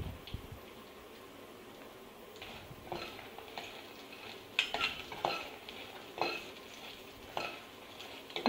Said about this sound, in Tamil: ஜஸ்ட் ஒரு 2-3 மினிட்ஸ் வரைக்கும் வறுக்க வேண்டியதாக இருக்கும்.